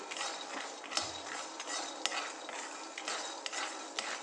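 Stirring while dry-roasting in a pan until crisp, quiet scraping and light metallic clinks repeating over a faint crackle.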